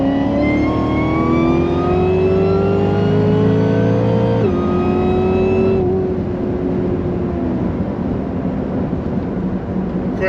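A stage 4 Cadillac CTS-V accelerates hard, its engine note climbing steeply through the gears with a brief dip at a shift before settling into a loud, steady roar up close.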